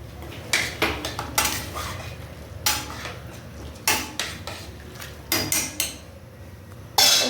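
A metal spoon stirs garlic and curry leaves in a pan for horse gram chutney, giving sharp clanks and scrapes in irregular bursts, close and fairly loud.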